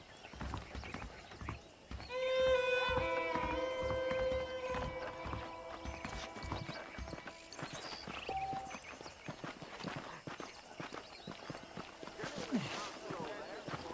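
Horse hooves clip-clop in a steady walking rhythm amid Red Dead Redemption game ambience, with a horse whinnying and background music tones.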